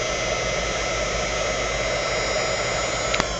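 ECG Mini heat gun blowing on its high setting, a steady loud whooshing fan roar held close and unbroken, with a brief click near the end.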